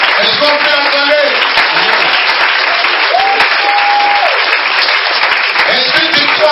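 A church congregation bursts into sustained applause and cheering for Jesus Christ, loud and continuous throughout, with a voice singing or calling out briefly over the crowd.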